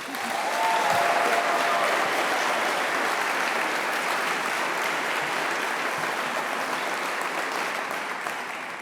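A large crowd at a university graduation ceremony claps and cheers steadily, a dense wash of applause that holds loud throughout with no pauses.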